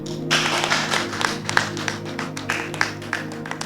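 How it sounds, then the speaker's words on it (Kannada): An audience claps to welcome guests onto a stage at an Easter Resurrection Sunday skit, a brief spell of moderate, scattered applause with a few louder individual claps standing out. "ನಾವು ಚಪ್ಪಾಳೆ ತಟ್ಟಿ ಶ್ರೀಮತಿ ನಾಗಮ್ಮ ಅವರನ್ನು ಆಹ್ವಾನಿಸೋಣ"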